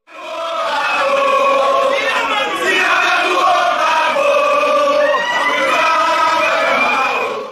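A large crowd at a mass political march sings songs and hymns together, a loud, close, sustained chorus of many voices lasting several seconds.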